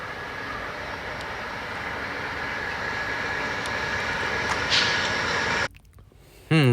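Amtrak train hauled by three pre-42 DC locomotives rumbling past in a steady broad roar with a faint high whine, then cutting off abruptly near the end.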